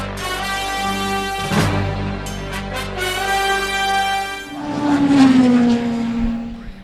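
GB3 Championship race cars scream past at Oulton Park during a British GT weekend, two passes with high-pitched engines rising and falling, the second car downshifting as it goes by, loud and close.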